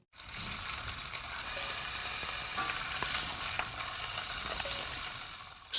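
Pork sizzles in a frying pan in an advertisement: loud, steady frying hiss with scattered pops and crackles throughout, and no voices.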